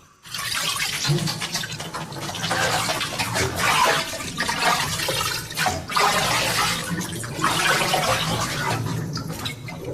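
Water pumped up from a tube well pours steadily through an overhead shower rose, a dense, continuous rushing spray that runs unbroken for the whole stretch.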